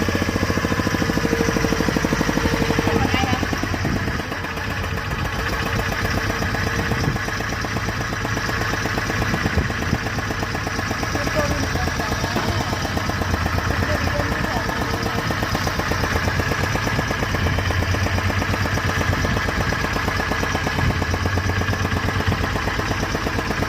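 Boat engine droning steadily and loudly throughout on a trip toward a sparsely inhabited island on Chilika lake, a continuous low mechanical hum with vibration and no pauses.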